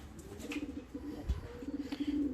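Fancy and costume pigeons in a loft give soft low cooing calls, repeated in short runs, faint and close, with no talking.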